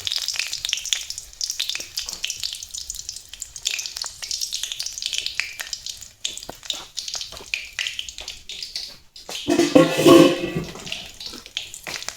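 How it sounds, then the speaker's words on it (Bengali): Two green chilies and a bay leaf frying in oil in a wok, a steady close sizzle throughout that swells louder and busier for a moment near the end, with no talking. "দুখানা কাঁচা লঙ্কা দিলুম ভাজা।"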